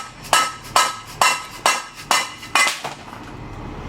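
A hammer strikes a small metal part six times in a steady rhythm, each hit a sharp, bright clang up close, with no talking.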